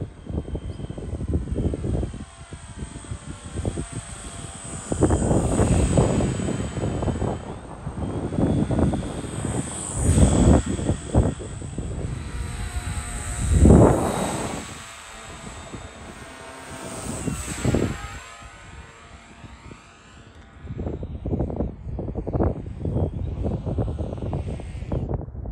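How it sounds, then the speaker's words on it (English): A V-tail FPV aircraft with a 14-inch pusher propeller flies overhead, its fairly quiet propeller drone rising and fading as it passes, mixed with gusts of wind noise against the microphone. "The aircraft flies incredibly stable, and it's incredibly quiet as well for a 14-inch pusher configuration."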